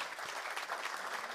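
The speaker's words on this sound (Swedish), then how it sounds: "Med en stor varm applåd tackar vi våra partners" Audience applause at an award ceremony for the Agtech Challenge innovation competition, a steady, even wash of clapping, faint and distant, with no voices.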